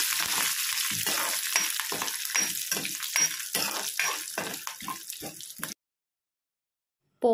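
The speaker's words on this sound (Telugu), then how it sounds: "బాగా ఫ్రై అవనివ్వాలండి పోపు దినుసుల్ని." Cumin, urad dal, mustard seeds, dried chillies and curry leaves sizzle and crackle in hot oil as a tempering for ridge gourd peel chutney. The frying is close, with bursts of popping for almost six seconds before stopping abruptly.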